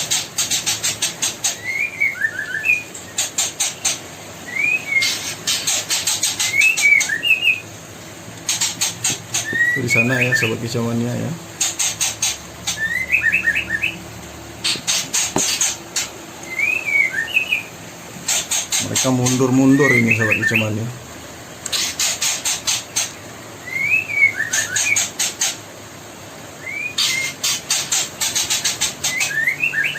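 Parent birds call noisily near their twelve-day-old nestlings in repeated whistled bursts, joined twice by louder harsh chattering, while someone talks throughout.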